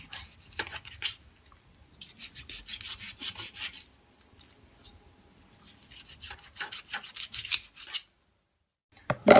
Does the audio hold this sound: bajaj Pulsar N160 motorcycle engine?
no